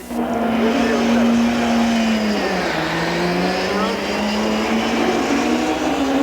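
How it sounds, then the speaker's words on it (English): A supercharged Ferrari Comprex Formula 1 race car engine at the 1981 Long Beach Grand Prix, a loud sustained high-revving drone with a slight dip in pitch midway, heard with a voice talking over it. "they also have something different, the Comprex, a new supercharged car, and it even sounds different"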